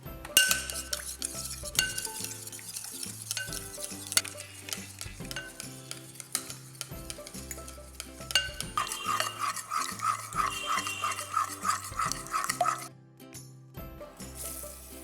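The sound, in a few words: whisking oil into chocolate cake batter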